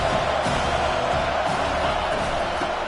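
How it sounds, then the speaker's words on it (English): A college football stadium crowd gives off a loud, continuous roar of cheering, sustained and even from start to finish with no distinct voices. "Listen to the crowd energy here in the early going."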